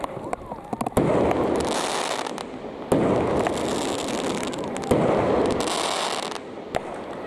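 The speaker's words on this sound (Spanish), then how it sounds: "la explosión de petardos haciendo eco entre los cerros de Comas" Firecrackers exploding among the hills of Comas, bursts of rapid crackling that echo and roll on for seconds, each volley loud and dense.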